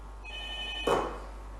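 A telephone rings briefly on a call-in line for a phone-in Quran recitation contest, a thin electronic tone followed by a short burst of noise as the call connects, with steady hum underneath.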